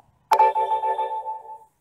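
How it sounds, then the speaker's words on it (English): Gmail notification tone on a mobile phone: a single bright chime starting sharply, then a short tonal melody that rings and fades over about a second and a half, heard clearly with no one talking. "This is a sound which is presently as my sound notifications for Gmail."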